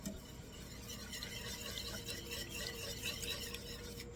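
Pectin being whisked into mashed peaches for peach jam, a soft continuous swishing and light scraping in a pot, fairly quiet and close with no talking.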